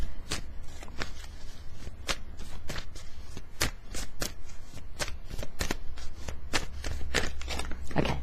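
Tarot cards are shuffled close by in quick, crisp riffling flicks, repeating steadily with no voices.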